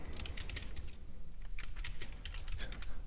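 Rapid keystrokes on a computer keyboard at a day-trading desk, a steady run of close, crisp clicks with brief pauses and no talking.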